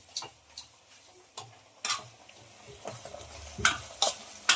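Coconut with ginger-garlic paste frying in a pan for gongura chicken curry, with a few sharp scraping stirs and clinks over a faint, steady sizzle, close and fairly quiet.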